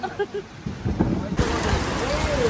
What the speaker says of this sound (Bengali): বৃষ্টি আরো জোরে পড়ছিল, এখন তো একটু কমেছে